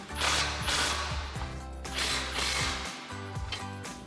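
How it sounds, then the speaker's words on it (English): An impact wrench fitted with a 16mm socket and extension tightens the mounting bolts of a Barricade 12,500 lb HD winch on a Jeep Gladiator, giving loud hammering whirs in a few close bursts. "we can come back and tighten these down with our 16mm socket and extension on our impact"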